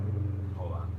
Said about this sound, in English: We got a noisy car.